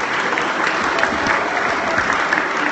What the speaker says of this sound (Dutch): Dus namens ons nogmaals applaus.